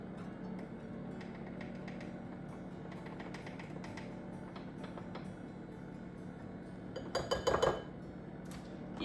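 Double-sided metal measuring spoons clink together while raisin cinnamon swirl bread is being made, a short cluster of bright jingling taps near the end over a steady kitchen background hum.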